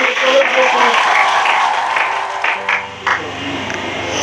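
A church congregation at a tabernacle in Kinshasa applauds, producing a dense, sustained wash of clapping that thins toward the end, with voices mixed into the crowd.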